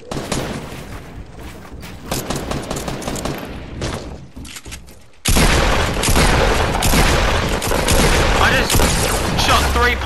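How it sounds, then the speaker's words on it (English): Pump shotgun blasts in a video game crack out in rapid succession, loud and close, mixed with heavy gunfire and booms, the barrage dropping off briefly before resuming even denser. "did you see how many pump shots I shot and they didn't count?"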